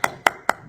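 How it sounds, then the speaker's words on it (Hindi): Four sharp, evenly spaced claps in under a second from a classroom audience during a Jain religious lesson, close and crisp with no talk. "उनके लिए ताली बजाइए"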